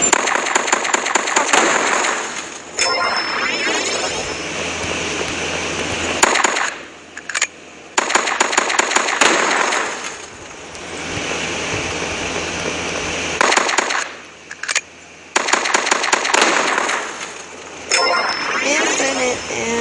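Pistol fire in the video game Robots Survival, bursts of rapid shots in loud, sustained runs separated by short pauses, with game sounds throughout.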